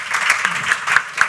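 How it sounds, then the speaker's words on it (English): An audience at an artificial intelligence diplomacy panel applauds the guests, a steady burst of clapping from a seated crowd, fairly close and continuous for about a second. "I hope you give a round of applause for the great guests."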